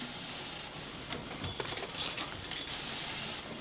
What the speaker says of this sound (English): Machining of the base.